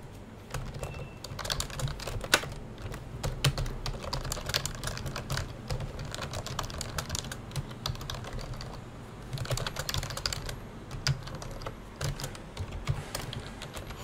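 Rapid typing on a cheap ergonomic computer keyboard, a dense run of close clicking keystrokes with brief pauses and bursts, steady and near, with no talking.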